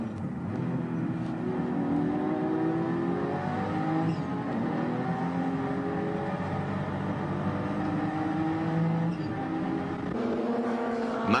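Race cars lapping hard at the Tokachi 24 Hours endurance race in 1995, with turbocharged Porsche, Skyline and two Honda NSX machines; continuous engine drone with rising and falling pitch as several cars rev through gears.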